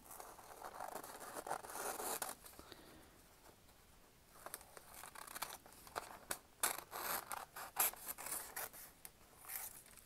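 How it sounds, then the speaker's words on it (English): Scissors snip and trim the edges of paper for a journal page, a run of close, dry cutting and rustling sounds with short bursts and pauses, no talking. "Trim off these edges."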